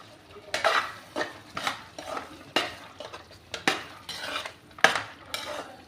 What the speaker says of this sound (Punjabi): ਚੰਗੀ ਤਰ੍ਹਾਂ ਜੇ ਆਪਾਂ ਮੈਸ਼ ਕਰ ਦਾਂਗੇ ਵਿੱਚ ਮਿਕਸ ਕਰ ਦਾਂਗੇ